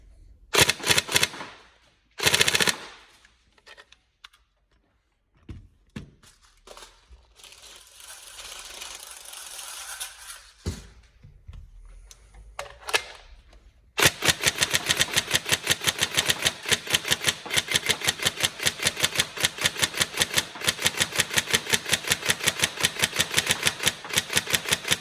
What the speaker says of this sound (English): Obviously a really crisp trigger response with the Gate Titan and Nuprol motor combo there, so it's going quite well.